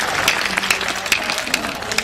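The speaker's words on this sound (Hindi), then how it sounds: "ठोक दो एक बार ताली।" Steady applause from an audience at a live Hindi comic poetry recital, dense and loud throughout with continuous clapping and no clear talk over it.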